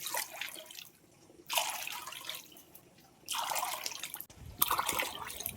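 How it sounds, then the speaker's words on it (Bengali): Water poured into a pot of split peas set to boil for ghugni, a steady pouring and trickling in three separate bursts with quieter gaps between, close by and moderately loud. "ডালটা সিদ্ধের জন্য পরিমাণ মতন জল দিয়ে দেবো"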